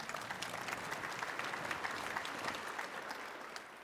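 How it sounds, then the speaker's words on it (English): Audience applause at a general session of the International Fuel Ethanol Workshop and Expo, a dense steady clapping from a large hall that fades slightly at the end, fairly distant and without talk over it. "Let's give these guys a round of applause for joining us."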